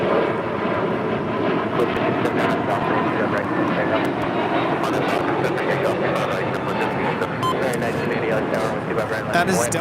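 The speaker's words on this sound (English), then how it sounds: "That is Delta 494 taking off to Detroit, Michigan on an A321 Neo" A Delta Airbus A321neo takes off from LAX, its engines a loud sustained roar that holds steady throughout, with people talking over it.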